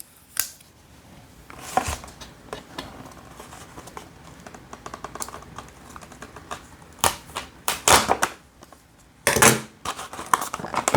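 The packaging of a Takara Tomy Beyblade X BX-11 launcher grip is opened and handled close by, with intermittent crinkling, tearing and sharp clicky rustles that grow busier and louder toward the end.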